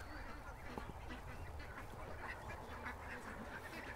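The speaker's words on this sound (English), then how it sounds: "the Canada geese are down at the creek" Canada geese honk faintly in the distance down at a creek, scattered calls over a low background murmur.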